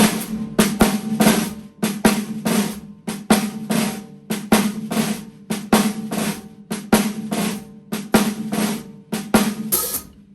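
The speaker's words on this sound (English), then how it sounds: "So that beat on the snare drum sounds like this." A snare drum plays a steady shuffle beat, crisp repeated hits in a swinging rhythm with accented strokes, close and loud with no talking.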